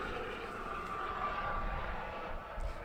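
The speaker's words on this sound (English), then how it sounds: "We've generally got a military helicopter flying over, that's awesome." Military helicopter flying overhead on an open mountain route, a steady droning engine and rotor rumble that stays fairly distant and faint, with no speech over it.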